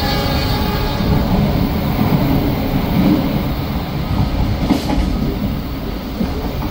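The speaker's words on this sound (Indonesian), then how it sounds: "Perjalanan kereta api Gunung Jati tiba di stasiun Jatinegara." KA Gunungjati passenger train running on rails near Jatinegara station in Jakarta, a loud steady rumble with rhythmic wheel clatter heard from on board, unbroken throughout.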